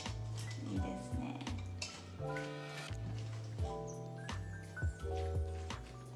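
Okonomiyaki batter with ginger is stirred in a bowl, a utensil clinking and scraping against the sides in quick repeated strokes, close and fairly quiet, with no voices.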